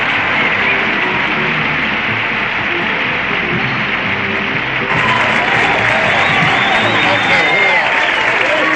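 Crowd applause after a comedian's set at a live comedy show, a dense continuous roar of clapping that swells slightly louder partway through, with some voices mixed in.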